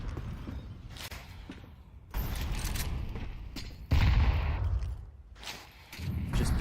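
Pistol fire crackles in a Counter-Strike match, with several bursts of sharp shots and booming reports arriving in clusters over a low game background, some louder and nearer than others.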